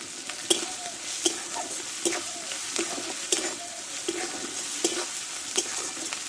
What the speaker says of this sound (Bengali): এবং মশলাটা ভালোভাবে কষে নিয়েছি